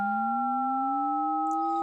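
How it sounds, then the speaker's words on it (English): Steady electronic sine tone with two fainter side tones, amplitude modulated, the lowest component gliding slowly upward over about two seconds, clean and alone with no voices. "A sine wave that modulates a carrier sine wave and produces two side bands."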